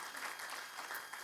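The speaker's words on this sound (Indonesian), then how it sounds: "Kasih tepuk tangan buat Tuhan Yesus Kristus" A church congregation claps for Jesus Christ during a service, a brief burst of many hands heard fairly quietly and at some distance.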